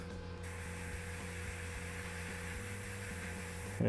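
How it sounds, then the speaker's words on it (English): An airbrush sprays paint onto a Knight Models Shazam miniature, driven by a compressor through a quick-disconnect pressure dial, giving a steady close hiss and hum throughout, with a brief louder burst at the end. "focus in our spray to exactly the PSI that I needed to, without dicking with the actual regulator on the compressor"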